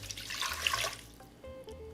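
Water pours and splashes into a blender for about a second, then trickles off, close and fairly loud with no talking.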